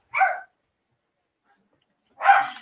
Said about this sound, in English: Could you maybe go get the dogs to stop barking?